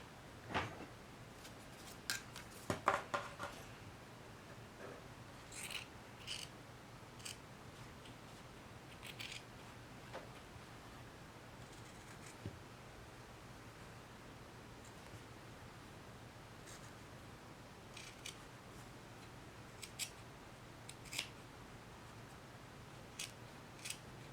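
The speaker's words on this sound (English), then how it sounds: "I'm going to snip close to the point at the top of the nose" Scissors snip fabric on small plush pieces near the point of the nose, a series of sharp, quiet cuts scattered over a hushed room, clustered early and then spaced apart.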